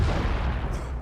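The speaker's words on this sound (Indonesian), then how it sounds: "tiba-tiba sebuah ledakan menghantam sang Ratu Naga" A loud explosion strikes the Dragon Queen in the How to Train Your Dragon film, a dense, roaring blast that rumbles on for about a second with no voices over it.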